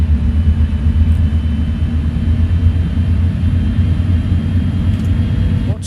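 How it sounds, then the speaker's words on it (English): Engines of a Boeing 737-800 in Microsoft Flight Simulator, a loud, steady low rumbling drone holding evenly throughout with a faint high whine above it. "Oh, the plane sounds awesome."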